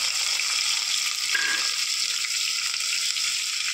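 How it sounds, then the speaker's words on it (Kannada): Cashews and black pepper crackle and hiss steadily as they fry in oil in a pan, a dense, even sizzle with a brief stir partway through and no talk. "ಗೋಡಂಬಿ, ಕಾಳು ಮೆಣಸನ್ನು ಹಾಕಿ ಫ್ರೈ ಮಾಡಿಕೊಳ್ಳೋಣ"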